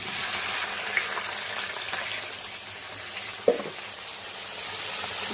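Tomato frying in a pan for tomato thokku, a steady soft sizzle running throughout with a few faint clinks and stirring knocks, no voices.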